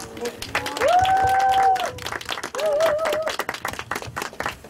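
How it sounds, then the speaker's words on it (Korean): An audience at a youth shop and youth village networking event in Chungju applauds to welcome the next presenter, steady clapping with a drawn-out whoop or tonal cry rising briefly above it. "박수로 맞이해 볼까요?"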